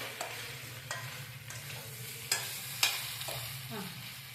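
Chicken pieces fry in a pan of oil for a Telugu-style chicken gravy, giving a steady close sizzle. Scattered clicks and scrapes of stirring break through the sizzle at intervals, and nobody speaks.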